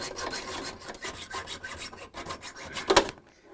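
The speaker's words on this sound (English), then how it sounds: "And then we're going to cut it off with the hacksaw." A hacksaw cuts through the metal axle of a rear caster wheel on a Frigidaire/Electrolux refrigerator, giving steady close rasping back-and-forth strokes that end with one sharp louder scrape before stopping.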